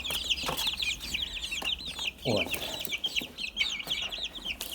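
Young Bielefelder chicks on a ninth-floor balcony cluck and peep in a steady busy chatter, with a voice speaking briefly over them.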